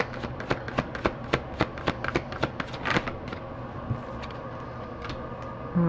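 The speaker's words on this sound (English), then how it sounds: "Let's get all the cards out here" Tarot cards shuffled and dealt out by hand, a quick run of crisp riffling snaps and taps, close and fairly quiet, with no talking.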